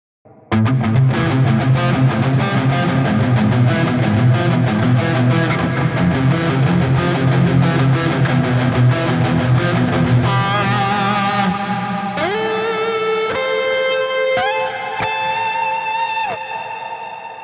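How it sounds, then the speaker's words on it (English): Distorted guitar strums continuously, then sustained notes bloom into a shimmering, octave-rich reverb wash that rises and lingers. "Shimmer reverbs are absolutely amazing."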